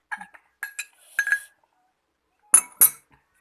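Som tam papaya salad ingredients being tossed together, sharp clinks and clatters of utensils against a dish in short bursts with pauses, close and fairly loud with no talk.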